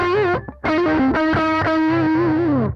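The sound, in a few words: guitar through an overdrive pedal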